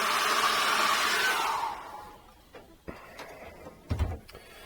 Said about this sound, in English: I'm going to dry him off with a hairdryer.